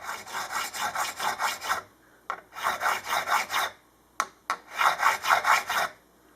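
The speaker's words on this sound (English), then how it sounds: "This is a StewMac diamond fret crowning file" Diamond fret crowning file from StewMac rubbed back and forth along a guitar fret during a refret: three bursts of rapid, rhythmic rasping strokes, close and fairly loud, separated by short pauses with a couple of isolated taps.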